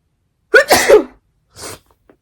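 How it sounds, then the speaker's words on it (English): A single loud, close sneeze, followed a moment later by a short breathy exhale. "I gotta sneeze."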